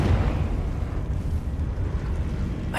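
Confringo fire-blast spell in Hogwarts Legacy, a deep rumbling roar of flame and explosion sustained and loud, ending with a short sharp crackle.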